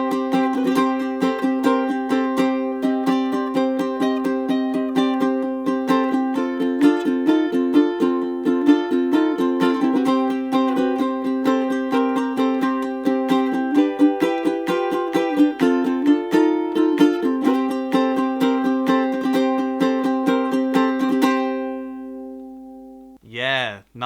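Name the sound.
ukulele strumming a rock riff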